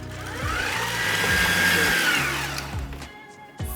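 An electric mixer beating blondie batter after two eggs go in for cherry Bakewell blondies, a loud steady whirring motor that holds, shifts pitch as the beaters move, then slows and cuts out near the end.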